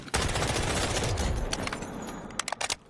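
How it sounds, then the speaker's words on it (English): Rapid automatic rifle fire from a K416 in the Delta Force shooter game, a dense sustained burst of shots ending in a few separate trailing cracks, loud and with no voices. "you can hold your breath while shooting"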